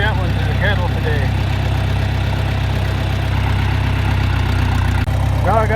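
A farm tractor carrying a hay bale for cattle idles with a steady low rumble and faint vibration, constant and close, while someone talks over it.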